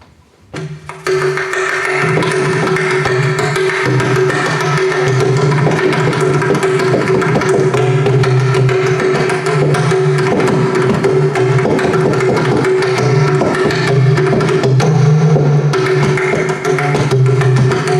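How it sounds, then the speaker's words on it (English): A pakawaj, the barrel-shaped North Indian temple drum, plays steadily and loudly for about seventeen seconds, with dense rapid strokes over a sustained resonant low tone and no talking. "So that's the sound of the pakawaj."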